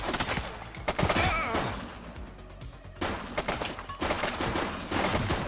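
Bursts of gunfire in the police video game The Precinct: rapid volleys of close, sharp shots with thuds, broken by short pauses and then resuming in loud clusters.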